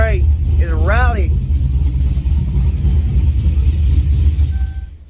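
A Silverado truck with a naturally aspirated 6.0 engine gives off a loud, close, deep rumble that holds steady throughout, then cuts off abruptly at the end.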